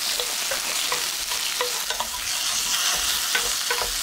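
Potatoes stir-fry in a couple of spoons of cooking oil in a pan over medium-low heat, producing a steady close sizzle punctuated by repeated spatula scrapes and taps at an uneven rhythm.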